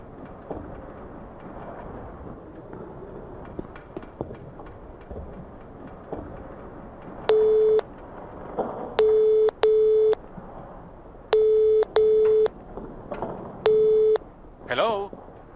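Telephone dialing and ringing tones from the phone at a hotel reception desk in the 2005 adventure game NiBiRu: Age of Secrets, set in France: six or so evenly spaced flat electronic tone bursts, loud and clean, over a murmuring room background.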